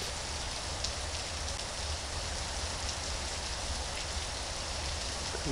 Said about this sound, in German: Oh Gott, jetzt auch noch Regen.